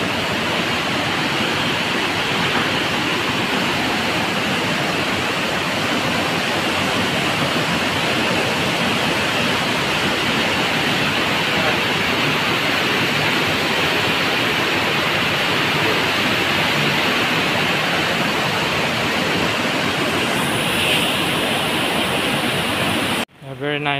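A waterfall inside a cave roars steadily as a broad, dense hiss, loud and unbroken, before cutting off abruptly at the end.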